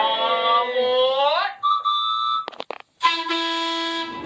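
Museum train at the Ohio Railway Museum sounding its horn as a ride begins: a long, loud, tonal blast that bends, a shorter steady toot, brief clattering, then another sustained horn note.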